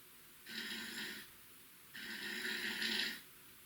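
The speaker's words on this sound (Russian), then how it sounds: "То есть храп никуда не исчез," Two drawn-out snores caught on a voice recorder at night, each a rough, buzzing breath lasting about a second, separated by a quiet pause over low room hiss.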